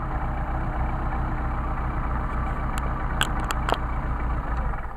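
A car engine fitted with a Solex carburettor idles steadily, a close, even low rumble that holds constant, with a few faint clicks partway through.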